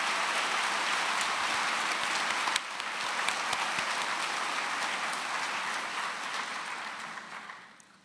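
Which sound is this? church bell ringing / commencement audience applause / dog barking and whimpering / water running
commencement audience applause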